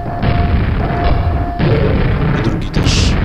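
In Quake, an Ogre fires grenades through a window, producing loud, close, low booms and heavy rumbling blasts separated by short gaps.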